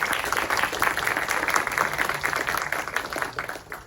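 A room of people applauds community college students at a Santa Monica College Shark Tank-style event, brisk clapping that swells then gradually thins toward the end.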